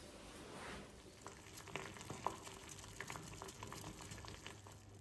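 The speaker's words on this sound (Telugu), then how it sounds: "కార్న్ బాయిల్ అయిపోయిందండి." Corn boils in a pot on a home stove, a quiet continuous bubbling with small pops and gurgles, heard alone and close.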